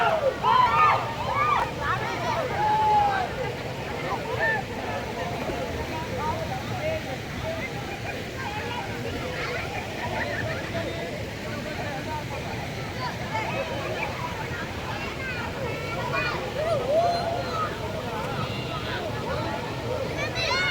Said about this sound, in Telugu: సో ఇది మీరు చూస్తున్నట్టు పోలేరు వాటర్ఫాల్